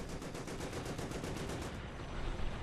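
Rapid automatic gunfire in the video game Ravenfield, a dense, continuous rattle of repeated shots at close range, steady for the first part before thinning into a rougher burst of fire.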